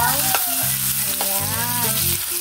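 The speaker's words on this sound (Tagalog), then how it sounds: "dito na lang po tayo magisa. Sa sarili niyang taba no, sa mantika." Pork sizzles and fries in its own rendered fat with garlic in a pan, a loud steady crackling hiss that runs throughout, with a spoon or spatula stirring and clinking now and then.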